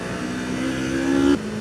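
A tractor passes along a hilly country road, its steady engine drone holding for over a second before cutting off abruptly, heard alone without talk.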